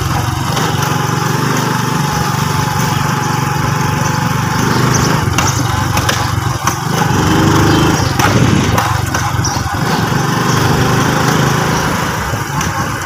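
A small generator engine runs steadily and loud near a row of roadside generator shops, a continuous buzzing drone with no voices.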